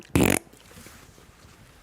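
A single loud, buzzy fart sound effect bursts out briefly near the start, then gives way to faint background noise.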